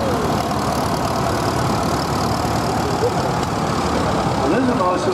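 A vintage tractor engine idles at an outdoor steam and craft show arena: a steady, close low rumble running throughout with a constant chugging texture and faint background noise.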